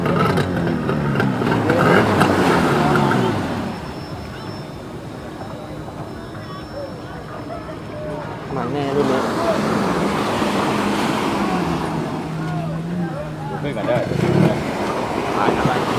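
Loud powerful engines of two F5 racing speedboats roar and drone continuously in Phuket, swelling in intensity, with someone talking over the noise.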